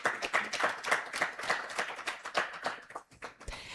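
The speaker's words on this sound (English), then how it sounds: "Another round of applause," Conference audience applause breaks out, a dense, steady burst of many hands clapping at moderate distance that thins out and fades near the end.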